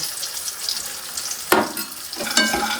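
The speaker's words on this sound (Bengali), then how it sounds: "এদিকে বড়ি ভেজে নিচ্ছি" Bori lentil dumplings fry in hot oil with a close, steady sizzle, broken by two sharp clanks of a spatula against the pan.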